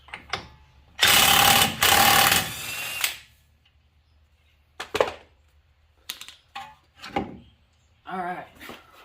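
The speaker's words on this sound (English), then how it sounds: "I'm going to go ahead and I'm going to take this axle nut off." A power tool loosening a 32 mm axle nut on a Subaru WRX: one loud, sustained rattling burst of about two seconds, followed by scattered shorter clanks, knocks and brief mechanical buzzes up close.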